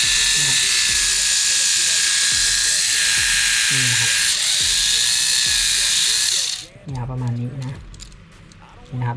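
A Tamiya Mini 4WD Toyota Yaris WRC on an MA chassis runs its small electric motor with a loud, steady high-pitched whine for about six and a half seconds, then cuts off, while someone talks throughout.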